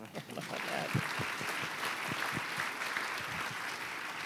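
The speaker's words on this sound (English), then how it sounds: "I think that's worth some applause." Applause from an audience at a community mental health event, a steady patter of clapping that carries on for several seconds at moderate distance.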